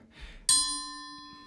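A gong-like percussion instrument struck once with a sharp metallic attack, then a long shimmering ring with steady tonal overtones that fades slowly, after a brief soft noise before the hit.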